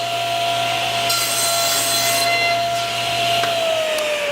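Table saw with a crosscut sled trimming the end of a wooden board for a door panel; a loud, steady motor whine with blade hiss throughout, the pitch sagging near the end as the blade slows.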